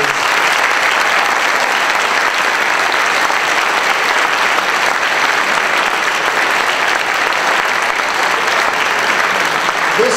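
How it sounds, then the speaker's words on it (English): Sustained, loud audience applause for the panelists at a candidate forum for Georgia's 6th Congressional District hosted by the Dunwoody HOA, a dense, even roar of clapping lasting about ten seconds without voices on top. "I'd like a tremendous round of applause for the entire team of panelists"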